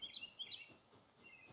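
Birds chirp in the video game The Forest, a quick run of high, bright tweets at moderate distance, fading into soft ambient background.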